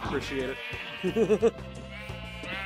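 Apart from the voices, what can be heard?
sheep bleating in the video game Minecraft VR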